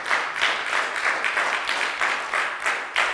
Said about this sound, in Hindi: जोरदार ताली प्रभु यीशु मसीह नासरी के नाम के लिए